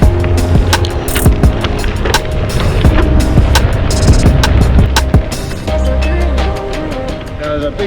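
A gravel bike on Vittoria Terreno Wet tyres rolls fast over gravel, close and loud, with continuous crunching rumble, sharp rattles and clunks, and wind buffeting the microphone throughout.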